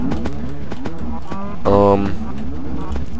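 Minecraft cows moo in one loud, drawn-out blocky call midway through, over a steady game background with softer repeated sounds before and after.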